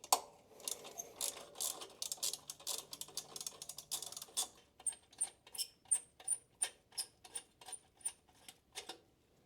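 A ratchet takes screws out of a heat shield on the exhaust downpipe of a Mercedes C63 S, with close, fast clicking at first, then slower rhythmic ratchet clicks with distinct metallic ticks.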